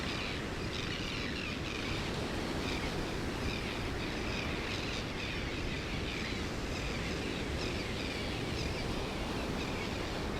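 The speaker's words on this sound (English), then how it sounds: "Surrounded by the deafening calls of this large flock of crested terns, doing their best to drown out the noise of the rolling waves." A large flock of crested terns calls continuously over rolling ocean waves on a shore, the dense chatter of adults and juveniles blending into a steady, loud wash of surf with no talking.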